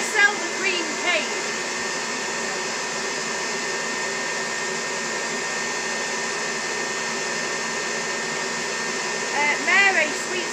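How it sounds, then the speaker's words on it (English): An electric cake mixer runs steadily throughout, a continuous motor whine held at an even level while a flamingo-themed cake is made, with brief faint voices near the start and end. "I'm halfway there, so then the mixer can go off for a while."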